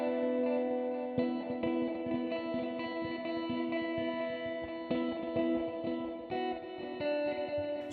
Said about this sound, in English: We have a dual delay now with a spring reverb.